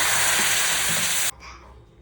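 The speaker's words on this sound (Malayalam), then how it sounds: "നിറം മാറിയ സമയത്ത് ഞാൻ ഇതിലേക്ക് ഒരു 1/2 കപ്പ് വിനാഗിരി ഒഴിച്ച് കൊടുക്കുന്നുണ്ട്." Vinegar poured into a hot, sizzling irumban puli (bilimbi) pickle mixture gives a loud bright hiss and crackle that cuts off sharply partway through, leaving a faint simmer.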